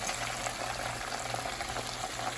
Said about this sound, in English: Let your chicken fry.